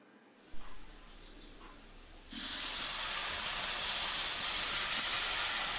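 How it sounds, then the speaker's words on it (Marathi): Lukewarm water gushes steadily into a pan with a bright hissing rush that starts abruptly partway through and continues loudly to the end, after a quieter stretch with a brief knock. "त्यामध्ये आपल्याला थोडंसं कोमट पाणी घालायचं आहे"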